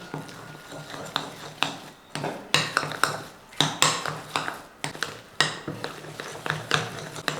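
Spoon clinks and scrapes against a bowl while unni bonda batter is stirred with jaggery syrup, giving irregular close taps and clatters with no talking.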